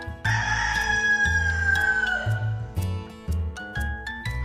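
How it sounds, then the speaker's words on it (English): A rooster crows loudly in a long drawn-out call over a bouncy musical backing with a steady beat. "Rooster."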